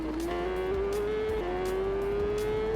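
A superbike engine in the TT Isle of Man racing game holds a loud, steady whine whose pitch climbs slowly and evenly as the bike keeps accelerating.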